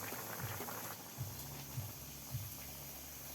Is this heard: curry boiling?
yes